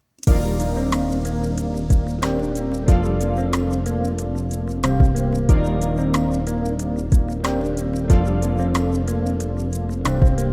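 The chorus of a chill pop beat plays loud and steady: punchy kick and snare hits with crisp hi-hats driving under layered synth chords, no voices.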